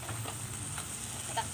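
Pechay leaves sautéed with okra in a pan for a mixed vegetable stew, giving a soft, steady sizzle and stir noise at low level with faint scraping, no talk over it.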